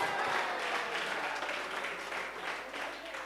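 A crowd claps steadily and fairly loudly throughout, a dense wash of applause with no break.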